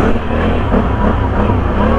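A 2021 Can-Am Outlander XMR 850 ATV engine revs loudly and close while mudding, a rough throaty roar that swells and falls over two seconds.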